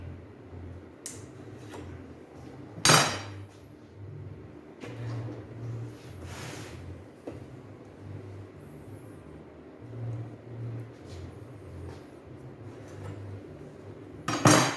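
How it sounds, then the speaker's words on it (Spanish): A metal telescopic drawer rail being pulled off a drawer, with a sharp metallic clack near the start, a few softer knocks and scrapes, and a final metal clatter at the end, close up and without speech. "Voy a sacar el riel entonces, esta parte de aquí."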